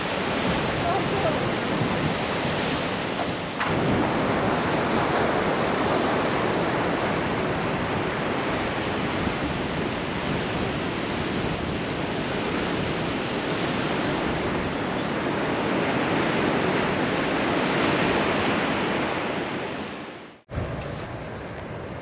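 Strong wind blowing across the Oregon dunes beside a van, a steady loud roar buffeting the microphone for about twenty seconds before briefly dropping out near the end.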